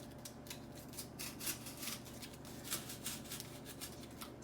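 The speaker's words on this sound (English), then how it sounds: "you can line them up and cut them properly" Scissors snip through fabric while cutting pocket squares, a run of quick, light cuts repeating at a steady pace, close and fairly quiet with no talking.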